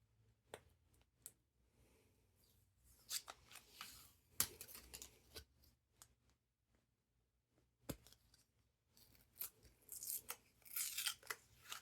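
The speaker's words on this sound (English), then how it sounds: "These will be in your like decal pack, the window kit. Just peeling off both sides." A vinyl window decal from a kit has its backing peeled off both sides, heard as scattered short crackling tears and rustles with quiet gaps, close and fairly faint, with no talk.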